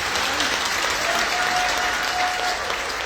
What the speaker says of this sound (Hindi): और एक बार तालियां चाहूंगा मैं उनके लिए।